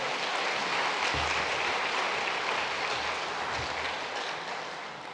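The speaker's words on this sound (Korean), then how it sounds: "큰 박수로 환영하겠습니다" Congregation applause during a Korean church worship service: a continuous, even rush of many hands clapping, moderately loud, with a couple of low thuds underneath and a gentle fade toward the end.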